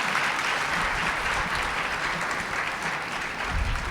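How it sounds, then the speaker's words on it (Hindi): An audience at a convention at Matridham Ashram claps loudly and continuously, a thick roar of applause with a faint crowd murmur beneath. "ताली बजाइए।"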